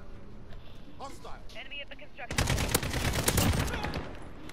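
Gunfire in the video game Modern Warfare comes in a burst of rapid shots partway through, moderately loud after a stretch of quieter sound with a voice in it.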